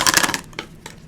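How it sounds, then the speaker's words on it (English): A tape runner lays adhesive tape onto a small paper tea caddy craft piece, giving a short burst of crisp, rapid clicking and rolling at the start, then a couple of fainter taps close by, with no talking. "Now I'm going to take my tape runner. Again, we're going to place tape on this piece."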